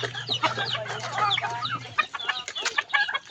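Chickens, including fighting cocks and a rooster, cluck and squawk in a busy, overlapping chorus, close by, with a steady low hum under the first half.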